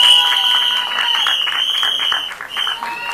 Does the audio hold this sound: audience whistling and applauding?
yes